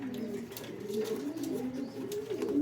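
A racing pigeon coos on arriving home at its loft after a derby flight, soft low repeated throaty coos in a steady rhythm, close and fairly quiet.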